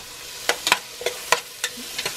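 Onions for chicken curry sizzle softly in a pan while being stirred, with a faint hiss broken by about eight sharp clicks and scrapes of a utensil against the pan.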